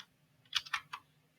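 A few quick keystrokes on a computer keyboard while writing JavaScript code, three or four soft clicks in a brief burst, close and quiet against a faint hum.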